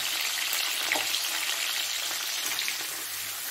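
Fish curry masala being stirred in hot oil gives a steady close sizzle and frying hiss with faint scraping, no voices.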